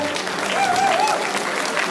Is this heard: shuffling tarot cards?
no